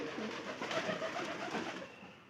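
Quiet, continuous cooing of a pair of caged pigeons nearby, soft rolling calls overlapping with no voices.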